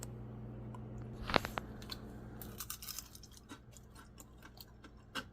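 Crunchy homemade onion ring chips made with cheese, onions and Italian dressing are bitten and chewed up close, with one sharp crack followed by a spread of small crisp crunches that fade into quieter chewing.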